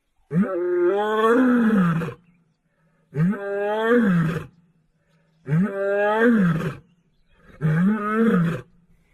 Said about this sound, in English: Suddenly we heard Savannah roaring